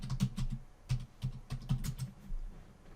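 Someone typing a password on a computer keyboard: irregular clusters of light key clicks come close up and fairly quiet. No one speaks.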